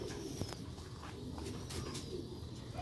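A pigeon coos softly and steadily at low pitch from a Sialkoti silver-roofed pigeon loft, a murmuring low hum running through the whole stretch with no voices over it.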